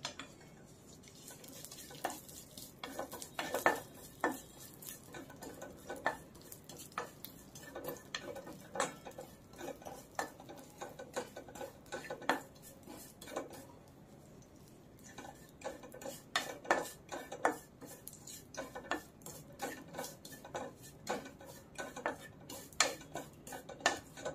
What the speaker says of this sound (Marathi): खसखस आहे ती यामध्येच मी तुपामध्येच थोडी फ्राय करून घेणार आहे